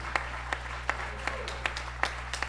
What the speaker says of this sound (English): let's give these talented voices of Alpha another round of applause